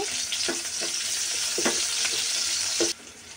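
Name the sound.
frying onion, chilies, bay leaf and cardamom in oil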